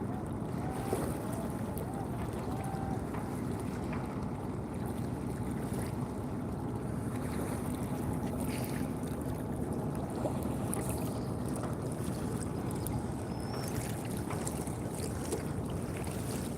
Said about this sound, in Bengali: এদিক দিয়ে অনেকগুলি বোট আসতেছে একসাথে বড় বড় কিছু নৌকা আসতেছে এদিক দিয়ে